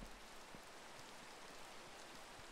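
Steady rain in Minecraft, a soft, even hiss of falling drops with no talk.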